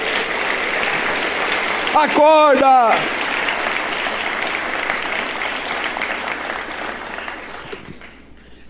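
A church congregation applauds steadily, sustained broadband clapping filling the space, with a brief loud shouted voice partway through and the applause fading toward the end.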